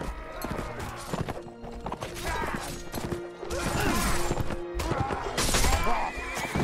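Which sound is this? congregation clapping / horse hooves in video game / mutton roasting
horse hooves in video game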